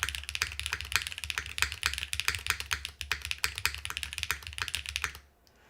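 A Space 80 R2 mechanical keyboard with Cherry switches is typed on in a fast, continuous stream of crisp, close keystrokes. The typing stops abruptly near the end and leaves quiet room tone.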